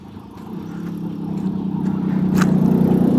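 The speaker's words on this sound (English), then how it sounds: "Why is that car farting?" A car on a New York City street makes a low, rough, sputtering engine rumble that grows steadily louder as it draws near, with a brief sharp noise partway through.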